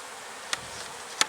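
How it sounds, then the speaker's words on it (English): Honey bees buzz softly around open hive frames in a steady, faint hum, broken by two sharp clicks like tools tapping wood. "So there's bees on all 4 frames."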